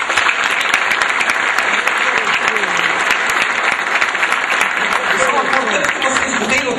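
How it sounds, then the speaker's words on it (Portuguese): Sustained applause from an audience at a business presentation, loud dense clapping filling the whole stretch with a steady, even roar and some voices mixed in. "acho que isso merece um aplauso"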